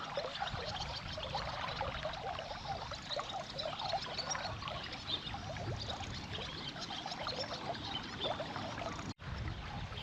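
A river flowing near a new bridge, a steady broadband rush and trickle of moving water, even and continuous for about ten seconds with one brief dropout near the end.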